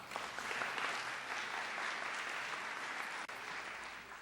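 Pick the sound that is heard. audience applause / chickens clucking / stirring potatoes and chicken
audience applause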